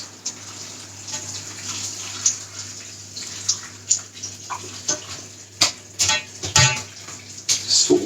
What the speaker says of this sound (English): you just basically tip the water and you want to submerge all the lettuce, cabbage